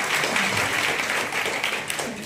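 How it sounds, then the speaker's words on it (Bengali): An audience at a women's legal awareness program in Arambagh claps steadily to welcome a guest, producing a dense, continuous wash of applause. "একটু জোরে হাততালি দিয়ে ওনাকে স্বাগত জানাবো"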